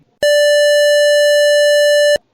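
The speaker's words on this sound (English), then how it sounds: "As you enter the 1 meter boundary, you will hear this musical note Sa." A single pure electronic tone, the musical note Sa, sounds for about two seconds at a steady pitch, clean and loud, then cuts off abruptly.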